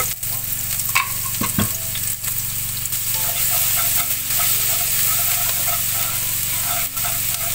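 Loud, steady sizzling of garlic and chili frying in hot oil, with a few scraping stirs early on.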